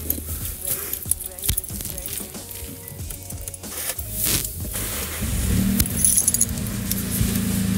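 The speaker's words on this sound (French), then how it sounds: "on vient de voir qu'elle a démarré quasiment au quart de tour" Keys jangle close by before a used car's engine cold-starts and settles into a steady idle that grows louder toward the end, with faint talk underneath.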